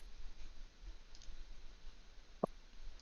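A single sharp computer mouse click, close and faint, stands alone against a low hum of room noise.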